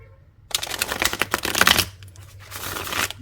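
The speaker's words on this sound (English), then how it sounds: "These are nice, easily shuffleable cards." A deck of tarot cards is shuffled close by in repeated crisp riffling bursts, a busy flurry for about a second and a half, a short pause, then a softer second round.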